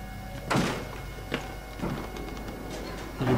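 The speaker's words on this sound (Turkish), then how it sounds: "Böyle kapıyı zorluyor." A door is forced in the horror game Outlast, giving repeated dull thuds and rattling knocks at irregular intervals over a steady low background hum.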